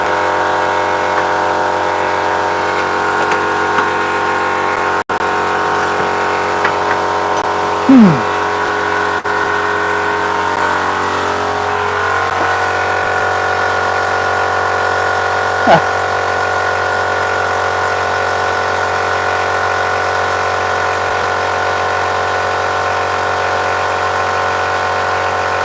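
A noisy air compressor runs steadily throughout, a constant droning hum with a faint whine, close and continuous, with a couple of brief squeaks partway through.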